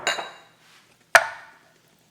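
Meatballs are dumped into a Ninja Foodi pot set to sear saute on high, giving two separate metallic clanks with brief ringing, the second sharper, with near-silence between.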